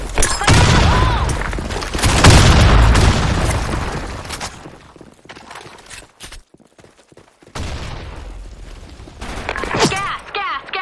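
Explosions and gunfire in a shooter game: dense, loud booms and rattling shots crowd the opening seconds, thin out into scattered pops, then build again toward the end.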